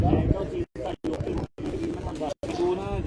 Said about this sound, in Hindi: इन पर टोटल 6 कबूतर है।